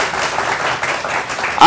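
A live crowd at a televised News 18 stage event applauds loudly and steadily in dense, sustained clapping that swells sharply at the very end.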